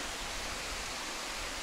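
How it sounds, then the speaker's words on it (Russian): A 30-metre waterfall in a canyon roars as a steady, even wash of falling water, loud and constant, with no voices. "Ну вот этот водопад 30 метров высота."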